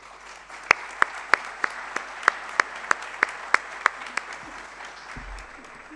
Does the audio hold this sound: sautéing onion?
no